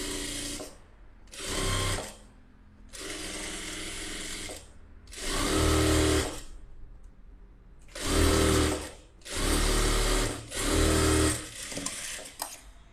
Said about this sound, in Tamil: இப்போ சுற்றி தையல் வேணால் போட்டுக்கலாம்